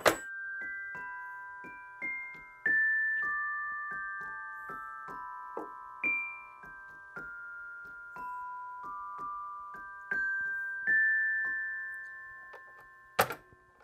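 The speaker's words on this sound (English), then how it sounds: "use like an acoustic instrument like these children's bells" Children's bells struck one at a time as an acoustic instrument, a slow run of bright ringing notes at close range, each one decaying gently before the next, with a sharper final strike near the end.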